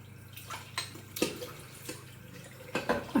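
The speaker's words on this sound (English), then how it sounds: "Let's get the brush soaking for a little bit in some nice warm water." Warm water running and splashing at a sink while a shaving brush soaks, with faint irregular splashes, drips and light clinks spread over a few seconds at low level.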